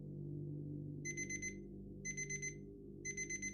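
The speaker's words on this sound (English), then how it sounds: "alarm went off at 7 a.m." A digital alarm clock sounds three short bursts of rapid high beeps roughly a second apart, clear over a low steady hum.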